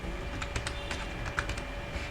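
Computer keyboard typing as code is entered, a run of quick irregular key clicks close by, steady and moderately loud with no voices.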